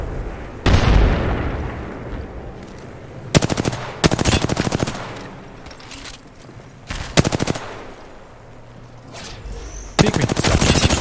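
Video game battle with grenade explosions and gunfire: one deep blast opens it, then repeated loud bursts of rapid automatic fire in separate volleys with quieter gaps between them, close and forceful.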